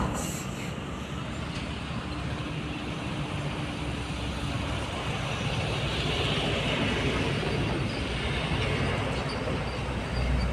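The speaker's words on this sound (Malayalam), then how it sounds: "അതൊരു റെയിൽവേ ട്രാക്കാണ് കേട്ടോ നമ്മുടെ കൊങ്കൺ റെയിൽവേ ട്രാക്കാണ് അത് ആ പോകുന്നത് ആ പാടത്തിൻ്റെ സൈഡിലൂടെ പോകുന്നത്" A train rumbles steadily along the Konkan Railway track beside a paddy field, a continuous low broadband roar heard from some distance outdoors, with no talking.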